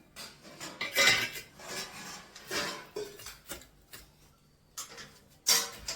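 Mint, coriander and green chillies pounded by hand for chutney, heard as scattered clinks and scraping knocks of utensils in an irregular rhythm, near and moderately loud, with no talk.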